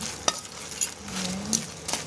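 Crayfish fry in a butter garlic sauce with a steady close sizzle, and a utensil stirring gives a few sharp scrapes and knocks on the pan. No one speaks.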